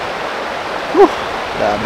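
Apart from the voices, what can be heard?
strong flowing river water current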